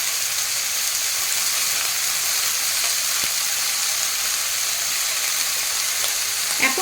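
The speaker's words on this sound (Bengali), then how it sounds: "এখন এর মধ্যে দিয়ে দেবো আগে থেকে গুঁড়ো গুঁড়ো করে কেটে রাখা বাঁধাকপি" Chopped cabbage goes into a pan of frying potatoes, and a loud, steady, close-up sizzle hisses continuously with no pauses.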